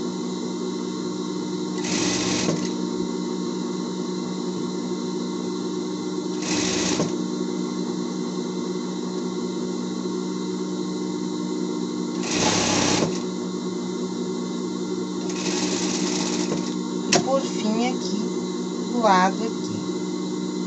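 A sewing machine stitches seams on a dog-patrol character costume, its steady running hum broken by several short louder bursts of stitching, close and clear with no talk.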